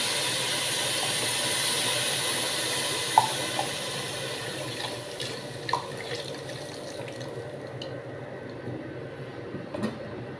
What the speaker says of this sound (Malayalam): പാല് ഞാൻ ഒഴിച്ച് കൊടുത്തിട്ടുണ്ട്